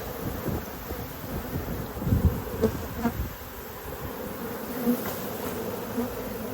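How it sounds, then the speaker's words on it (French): A swarm of honey bees buzzes steadily around a hive outdoors, a dense close droning hum that swells slightly now and then, with light wind and rustling in the background. "l'essaim est juste là, il se reforme un peu"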